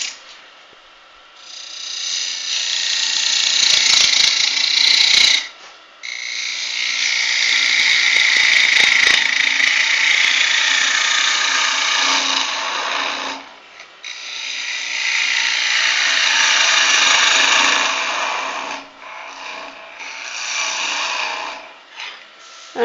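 Wood lathe turning an end-grain mortar at 1800 RPM, with a tool cutting in three long bursts of bright, hissing scraping, separated by short pauses where the cutting stops.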